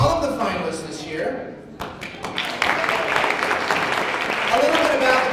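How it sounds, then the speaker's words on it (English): Audience applause for contest finalists at an awards event, a dense wash of many hands clapping that swells after a brief lull and holds steady and loud to the end. "I'd like to have a big round of applause for all of the finalists this year"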